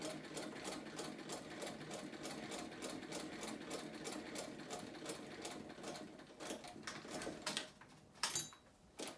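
A vintage sewing machine runs steadily, stitching through four layers of fabric with a fast, even mechanical clatter that stays loud and close, then slows and stops in short bursts near the end.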